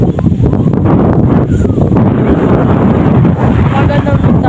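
Strong wind blows outdoors at a quiet open hangout spot, a loud continuous roar of buffeting against the microphone that fills the whole stretch.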